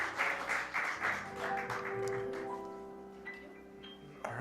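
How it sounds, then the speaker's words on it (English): Brief round of applause from a congregation welcoming a new Board of Trustees, the clapping fading out after a couple of seconds into held organ or keyboard tones. "One more round of applause for our new"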